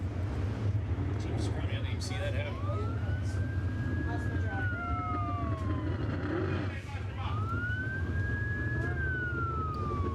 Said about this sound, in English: Don't panic about the sirens.